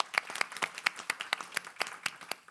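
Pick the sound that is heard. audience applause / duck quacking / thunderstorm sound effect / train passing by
audience applause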